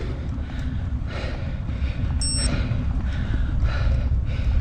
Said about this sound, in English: Sorry about the Garmin beeping.